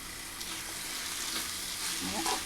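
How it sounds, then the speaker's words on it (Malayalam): Anchovy thoran frying in a pan while being stirred, a constant close sizzle with soft scraping and clinking of the spoon, no talk. "നമുക്ക് തോരനൊന്ന് ഇളക്കി കൊടുക്കാം."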